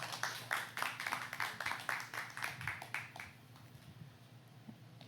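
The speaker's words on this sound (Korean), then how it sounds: "다시 한번 큰 박수 부탁드립니다." A small audience claps at a ceremony, a sparse rhythmic applause that fades out after a few seconds, leaving a quiet room.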